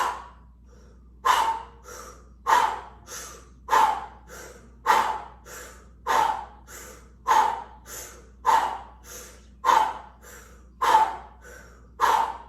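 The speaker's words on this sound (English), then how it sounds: "we're going to be inhaling and exhaling" Deep meditation breathing: about ten slow, even cycles of loud, close inhales and forceful exhales, each ending in a breathy gust, with no talking.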